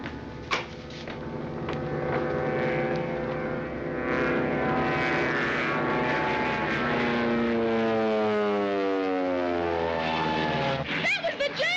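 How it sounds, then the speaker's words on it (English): A small propeller airplane engine in a Nancy Drew mystery game drones loudly and steadily, its pitch sliding and wavering as the plane passes and dives, ending in a brief burst of other effects. "That's your plane, Griffith."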